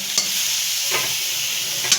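Soybean chunks frying in oil with a little sugar in a pan, a loud steady sizzle with a few scraping stirs of the spatula, close by.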